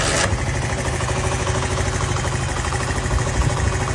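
A motorcycle engine fitted with a local CDI unit idles steadily and close by, a continuous throbbing drone with no pauses and no talk over it.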